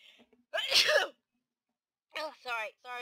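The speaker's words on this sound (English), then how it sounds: "I gotta sneeze." One loud, close sneeze bursts out from a man, followed by a pause and then a few short vocal sounds afterward.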